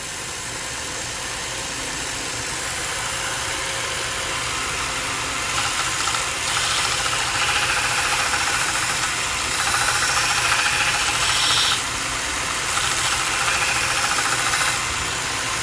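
One-inch belt sander sharpening a steel broadhead on fine 600 grit, a continuous close motor hum and belt rush with brief bursts of grinding hiss as the blade passes, no talking.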